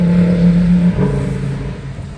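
Long Island Rail Road M9 electric multiple-unit commuter train passing on the Main Line, a loud steady rumble and whir with a low horn-like tone early on, fading slightly as it goes by.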